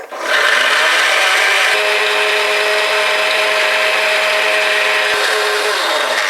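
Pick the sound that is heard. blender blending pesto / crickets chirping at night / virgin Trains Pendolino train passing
blender blending pesto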